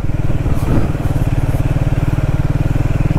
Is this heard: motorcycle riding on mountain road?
yes